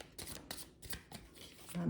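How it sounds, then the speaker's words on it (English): A tarot card deck is shuffled in a few repeated riffling bursts, close and moderately loud, with a short low thump near the end. "I have to give these cards a really good shuffle"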